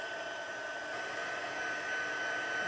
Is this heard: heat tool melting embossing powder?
yes